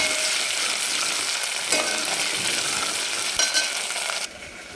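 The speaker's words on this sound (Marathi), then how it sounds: "आलं लसूण आणि कोथिंबीर याची पेस्ट ठेवली होती हे टाकून देणार आहे आणि ह्याला पण काही सेकंद फक्त परतून द्यायचं" Ginger, garlic and coriander paste sautéed in hot oil for a mutton curry with pumpkin, hissing in a bright, dense sizzle, with a couple of sharp spoon knocks against the pan before the frying suddenly drops away.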